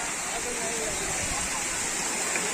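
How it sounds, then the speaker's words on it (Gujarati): A water fountain runs steadily at the Surat Gurukul temple, giving an even, broadband rush of spraying and falling water that stays loud and constant throughout. "ફુવારો હા એ ફુવારો ચાલુ છે જો"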